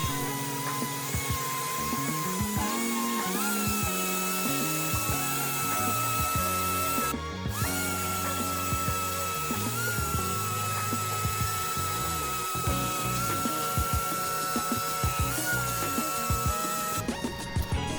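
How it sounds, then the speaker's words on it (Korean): A powered sander works over the clear coat of a carbon fiber part indoors, producing a continuous whirring grind with shifting pitch and brief harsher bursts as the pad moves, with no talking. "샌딩 작업을 할게요."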